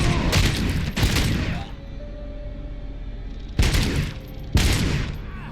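Bursts of gunfire in the Robocop: Rogue City video game, two close, loud volleys at the start and two more after a quieter gap, ringing out over a low rumbling background.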